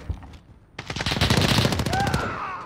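Automatic rifle fire rattles in a first-person shooter match, a fast, loud burst of closely spaced shots lasting well over a second, followed by a brief whistling tail.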